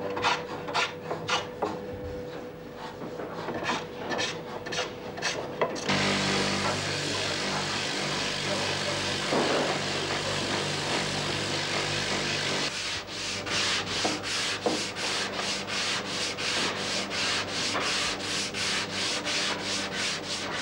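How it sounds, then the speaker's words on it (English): Raw racing shell oars are planed and polished by hand in an Empacher boat workshop, with steady close rubbing and sanding strokes, a rhythmic scraping run at the start and end and a smoother continuous stretch between. "The raw oars are now planed and polished by hand."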